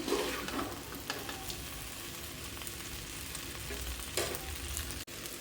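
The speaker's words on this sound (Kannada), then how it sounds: "ನಾನು ಸ್ವಲ್ಪ ಫ್ರೈ ಮಾಡ್ಕೊತೀನಿ ಒಂದೆರಡು ನಿಮಿಷ ಈರುಳ್ಳಿ ಜೊತೆ ಮಸಾಲೆ ಜೊತೆ" Okra palya with onion and masala sizzles steadily in a pan, a dense continuous crackle with occasional stirring scrapes, close and fairly loud with no talking.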